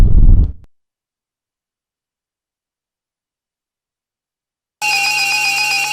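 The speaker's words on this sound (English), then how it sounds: "no wonder it sets off the RDK 3000 TriStar roll call alarm" A steady electronic alarm tone with layered harmonic pitches from an RDK 3000 TriStar roll call alarm starts abruptly near the end and holds loud, after a brief burst of noise and a long silence.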